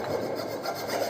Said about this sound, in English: So we are using a smooth file